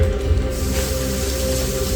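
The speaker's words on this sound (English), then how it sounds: "you hear the river" A river flows with a steady, full rush of water, a dense continuous wash that stays even and close throughout, with no voices.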